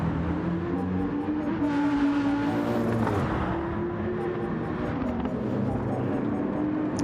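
BMW race car from a racing video game lapping Mount Panorama, a steady engine drone held under hard acceleration with a brief higher surge midway, heard beneath someone talking throughout.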